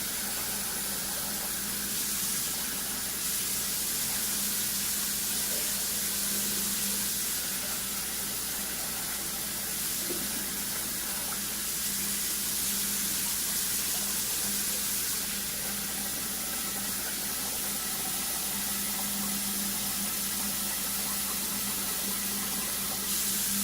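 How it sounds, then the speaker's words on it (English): Water runs steadily from a tap in a soft, continuous hiss as rice is rinsed, with faint clinks and movement beneath it and no voices. "rinse it off and get all that starchy water off of it"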